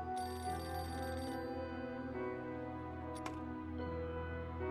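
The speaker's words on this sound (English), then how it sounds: "Telephone." A telephone rings in the Beholder 2 video game with a steady, bright electronic bell tone that repeats evenly and stands alone without any talking.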